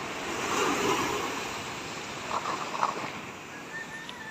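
Big waves wash against a harbour in rainy, rough weather, a broad roaring rush of surf that swells early, then eases into a steadier wash with a few louder splashes.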